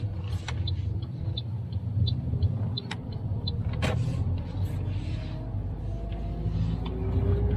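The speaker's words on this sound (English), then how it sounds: "Clutch down, gear 1. Yep, clutch out. And then go forward." A manual car pulls forward in first gear from inside the cabin, its low engine rumble steady and close, with a few faint clicks and knocks over the drone.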